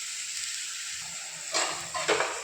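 Tomatoes with rock salt sautéing in a pan make a soft, steady sizzle, with two louder bursts of crackling and stirring near the end and no voices.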